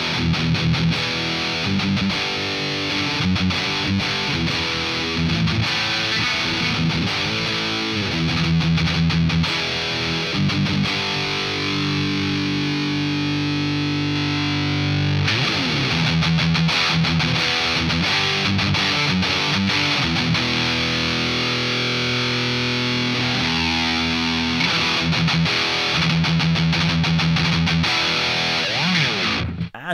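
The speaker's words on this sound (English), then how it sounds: "Just like that, we turned a really low gain amp into a shred monster." A heavily distorted electric guitar through a low-gain amp and shredder effect plays fast, saturated riffs and sustained notes, loud and continuous throughout with a buzzy, aggressive effect tone.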